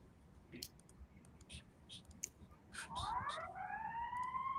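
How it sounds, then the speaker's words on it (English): A fire alarm goes off indoors, a few faint clicks followed by a rising, wailing electronic tone that holds steadily and fairly loud toward the end. "Who's got the fire alarm going?"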